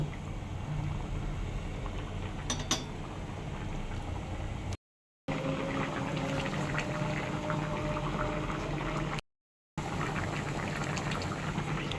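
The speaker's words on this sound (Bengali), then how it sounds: "ঝোলটা ফুটতে দিব" Egg korma gravy boils in a pot with a steady, dense bubbling and simmering that runs continuously at moderate loudness, cut by two brief silent gaps.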